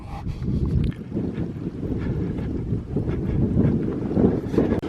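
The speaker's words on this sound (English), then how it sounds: "when it stops being windy" Strong wind buffets the microphone in a continuous low roar, gusting steadily throughout with no voices.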